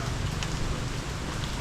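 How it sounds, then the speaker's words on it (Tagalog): Steady rain hissing over surfaces while gusty wind rumbles low and constant during a storm in the Philippines, heard from close by outdoors. "Sama ang panahon ngayon, may bagyo"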